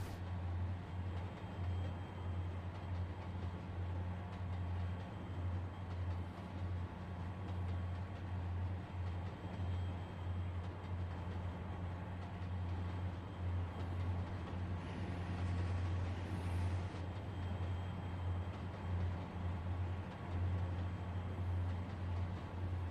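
A heavy train climbs the Lookout Pass line in Trainz: A New Era, a steady low engine drone with a constant rumble running unbroken and fairly quiet throughout.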